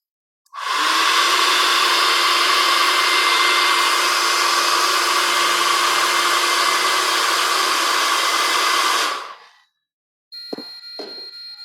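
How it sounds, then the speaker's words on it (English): A hair dryer runs loud and steady for about nine seconds near the microphone, its blowing whoosh carrying a constant motor whine, then cuts off, followed by a short clatter, heard alone. "Let's go with the hair dryer."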